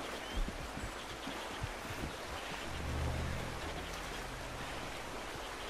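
Rushing river water surrounds a character who has fallen in within the video game Red Dead Redemption 2, a steady broadband wash with a low swell midway and no talk.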